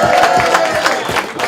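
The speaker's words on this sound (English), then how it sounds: "Let's give a round of applause to RBE for this card." Crowd at a rap battle event cheering and clapping, a brief dense burst of voices and scattered claps with rhythmic loud pulses, close and loud.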